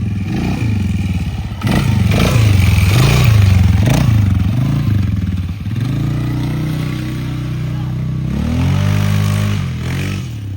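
A dirt bike engine revs unevenly on a hill, loud and close, with choppy bursts of throttle, sputtering dips and rising pitch sweeps as the rider struggles to hold it steady.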